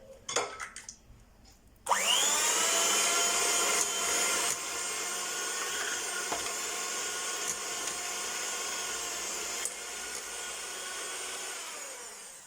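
An electric mixer whisks sugar, butter and vanilla essence for banana bread: after a few light knocks it spins up abruptly into a loud, steady whirring drone that eases slightly in level and holds to the end.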